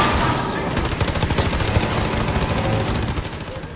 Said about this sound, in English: The gun sound design in this game really impressed me.